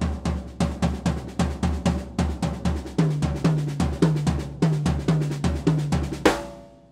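A fast seven stroke roll drum fill played on a snare, sounding as rapid even groups of strokes with accented hits that repeat steadily for several seconds, ending on a ringing final crash.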